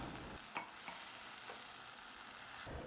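Soft, steady sizzling from a pan of soya chunks being sautéed, faint and continuous, with a few light scrapes of stirring and no voices.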